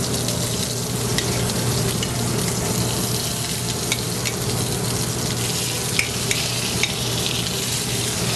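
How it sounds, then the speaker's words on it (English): Scallops sizzle steadily in a hot pan, a continuous crackling hiss with occasional sharper pops, close and unbroken with no voices. "you want to hear a nice crackling and sizzling"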